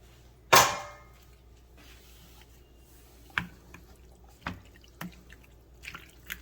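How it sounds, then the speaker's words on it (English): Cooked penne pasta is dumped out with one sharp splashing clatter, then sparse water drips and small taps fall every second or so, close by and quiet, with no talking. "dump that pasta right on over in there"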